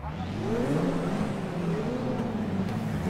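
Mercedes EVO II DTM race car engines from 1992 in the RaceRoom video game at the Nürburgring, a steady droning engine note rising and falling in pitch as cars accelerate, loud and continuous with no talk.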